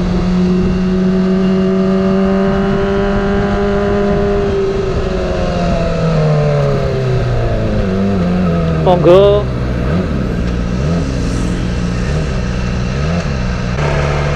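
A Kawasaki ZX25R motorcycle fitted with an Ayam Geprek aftermarket exhaust revs up and down near the listener, its engine pitch sliding and rising in repeated surges, with a brief voice partway through.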